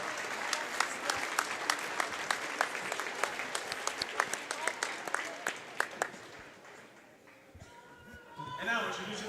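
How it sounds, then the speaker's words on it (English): A crowd at a girls' varsity basketball game claps steadily for several seconds for the officials, a dense patter of applause that fades out near the end, with faint voices after. "Please stand and show your appreciation by giving a big round of applause to these outstanding officials."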